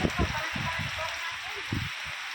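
Rain falls on a farm in a steady, close patter with dripping, while someone talks over it in short bursts.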